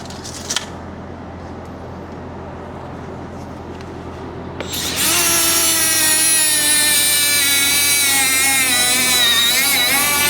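Grinder cutting into the steel of a gooseneck trailer, starting after a quiet stretch and then running loud and continuous with a high whine and harsh grinding texture.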